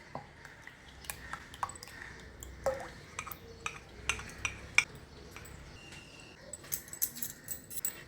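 Blended sour yogurt being stirred with a large spoon for a tangy Odia drink, giving light, irregular metallic clinks and taps against the bowl, close and quiet with no speech.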